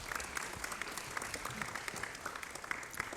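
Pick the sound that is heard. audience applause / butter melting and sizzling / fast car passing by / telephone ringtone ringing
audience applause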